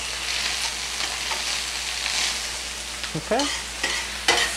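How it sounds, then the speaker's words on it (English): Mushrooms sizzle steadily in hot oil in a pan, with a few clinks and scrapes as they are tossed with tongs, and a brief word from a person near the end. "Now, these are up and sizzling nice, which means it's time for the leek."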